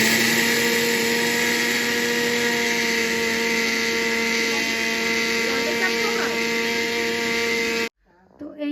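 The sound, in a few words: electric mixer grinder grinding rice into flour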